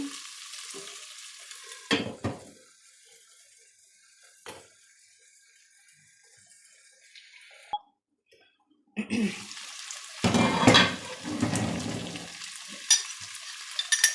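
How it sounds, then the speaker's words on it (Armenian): Potatoes sizzling and stirring in a hot pan, with bursts of frying noise around two seconds and louder, busier sizzle and scraping from nine seconds on. "Երկու րոպե կարտոֆիլը տապակվի։"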